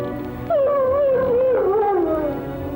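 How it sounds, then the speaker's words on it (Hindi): A dog howls in a long, wavering cry that rises and falls, loud and close, with a quieter lead-in before it. "फिर उसी कुत्ते के रोने की आवाज"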